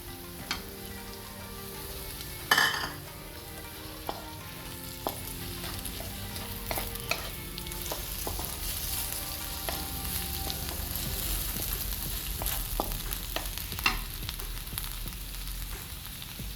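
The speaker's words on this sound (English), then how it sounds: "We add the chopped tomatoes." Chopped tomatoes go into onions frying in a pan, giving a steady, even sizzle with occasional stirring clicks and scrapes, moderately close and continuous.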